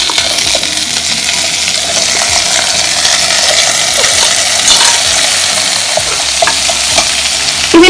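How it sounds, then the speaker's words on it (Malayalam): Chopped cucumber and mango hit a hot pan, setting off a loud, steady sizzle with frying crackle and a few clinking, scraping stirs, no voice over it. "ഇനി നമ്മള് കുക്കുംബറും മാങ്ങയും കൂടി അരിഞ്ഞത് ഇതിലേക്ക് ഇട്ട് കൊടുക്കാം"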